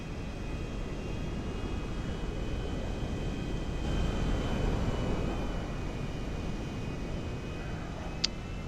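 An airliner engine drones steadily during flight in GTA V, a constant broadband roar with a faint whine over it and a tiny click near the end.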